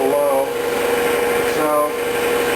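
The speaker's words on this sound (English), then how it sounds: "I gotta wait for the compressor to build up air again because it was a little low." An air compressor in a CNC plasma-cutting shop runs to build pressure, giving off a steady mechanical hum with faint tonal whine, close and continuous, under nearby talking.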